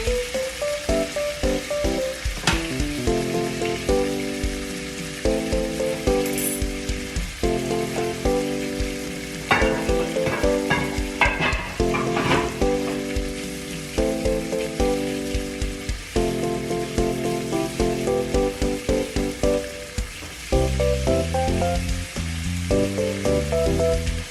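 Lamb T-bone chops searing on high heat give off a steady loud sizzle throughout, mixed with music that has a strong beat, with no talking.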